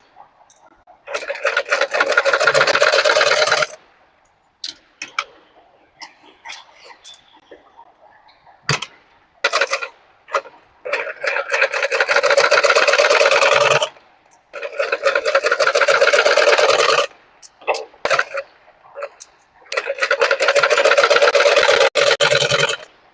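Close, loud sewing machine runs stitch a princess-cut blouse in several long bursts of rapid mechanical whirring, separated by quieter pauses with faint handling sounds.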